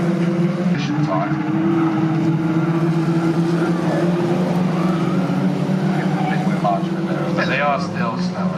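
A pack of Caterham race cars sweeping past at Snetterton circuit, loud engines droning and shifting pitch as they come through together, with a commentator talking over the roar.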